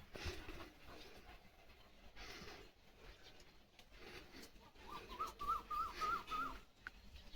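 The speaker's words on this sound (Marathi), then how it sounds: "कोकिळा किती छान ओरडती" An Asian koel calls in a home setting, its short rising whistled notes repeating several times in a quick series toward the end, moderately close over a steady background of household noise.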